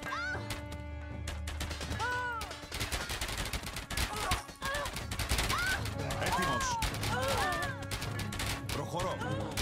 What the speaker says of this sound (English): It's like a machine gun fire.